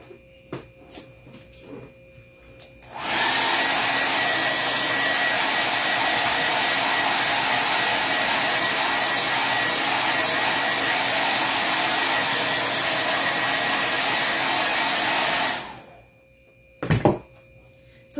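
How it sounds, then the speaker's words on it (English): A hair dryer roars steadily for about twelve seconds, then shuts off, followed by a couple of soft thuds and a brief clatter. "I threw my blow dryer on the floor."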